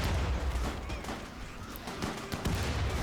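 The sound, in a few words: grenade explosions and gunfire in RimWorld video game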